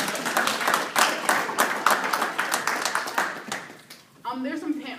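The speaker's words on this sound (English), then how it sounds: "quick round of applause for them" An audience applauds panelists at an LGBT professionalism panel held at a law school, a brief burst of clapping that fades before a voice begins speaking near the end.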